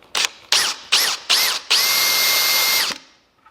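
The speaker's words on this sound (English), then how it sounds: "I'm just using that rotten old blunt Forstner bit to drill down about a millimetre" An old blunt Forstner bit in a power drill bores a shallow recess in reclaimed timber for a desk build, with four short whirring bursts followed by one longer steady run that then stops, close and loud.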